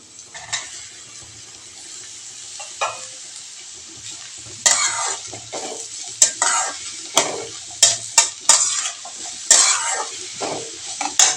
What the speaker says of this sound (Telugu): చెక్కు తీసిన బీరకాయ ముక్కలు కూడా వేసేసాను కదా. అది వేగుతూ ఉంటుంది.